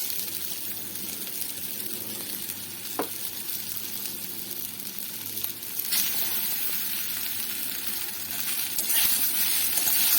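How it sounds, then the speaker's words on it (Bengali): Potatoes, onion, garlic and already fried fish frying together in a pan on low heat, a steady soft sizzle with occasional stirring scrapes and a brief clink. "এবারে সব সুন্দর করে ভালো করে আস্তে আস্তে কম আঁচে এগুলো ভাজা ভাজা করবো 5 থেকে 7 মিনিট"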